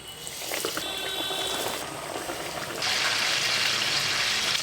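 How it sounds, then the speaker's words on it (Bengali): Bombay duck (bombil) fish fry sizzles in hot soybean oil over medium heat, with a steady, close, dense crackling hiss that grows louder partway through. "তারপরে এক এক করে ফিশ ফ্রাইগুলো ভেজে নেব।"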